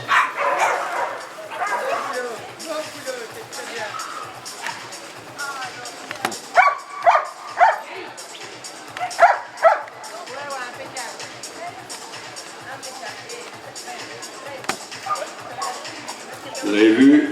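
A Belgian Malinois named Eos at a dog attack-training demonstration, with intermittent sharp barks and yips rising over a busy crowd and someone talking throughout, some bursts louder and closer than others.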